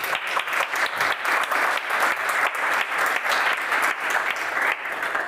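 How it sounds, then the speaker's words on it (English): Audience at a conference talk breaking into loud, sustained applause, dense clapping filling the room steadily from start to finish with no speech. "big applause."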